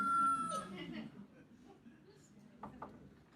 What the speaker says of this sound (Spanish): Está bonito el gallo.